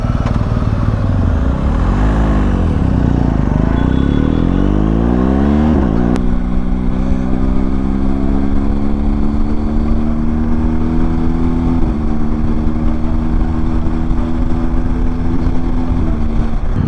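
A BMW R12 motorcycle rides with a group of superbikes on a highway trip from Delhi toward Agra, its engine droning loud and steady with rising and falling pitch as the bike shifts and accelerates, wind rushing throughout.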